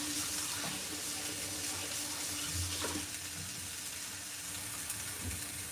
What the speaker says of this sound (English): Washing my hands, hang on just a second.